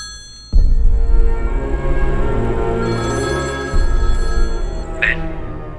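A telephone rings loudly in a scene from the Hindi-dubbed South Indian action film Raangi, with sustained ringing tones that start abruptly and swell again partway through.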